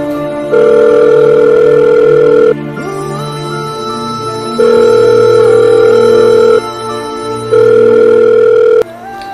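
A phone rings with a steady electronic tone in three long bursts, loud and close, separated by brief pauses.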